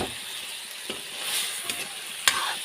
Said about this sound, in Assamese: মই আৰু অলপ এনেকৈ লৰাই ভাজি ল'ম।